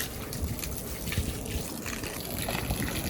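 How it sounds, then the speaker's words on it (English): Sponges from a 300-gallon turtle pond filter being rinsed in water, a steady close splashing and gushing wash of liquid, quiet and continuous with no talking. "let's rinse off the sponges"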